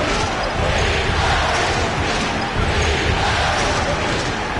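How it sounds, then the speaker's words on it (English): A dunk slammed home by Yao Ming in an NBA 2K basketball video game, with a loud crashing impact over steady arena crowd noise and game sound. "And Yao slams it in."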